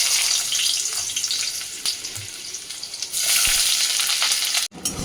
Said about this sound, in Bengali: পেঁয়াজটা ভালো করে একটু লাল লাল করে ভেজে নিচ্ছি